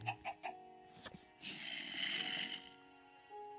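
A few short chicken clucks from a chicken in Minecraft at night, quiet and close, followed by a soft hissing, breathy texture.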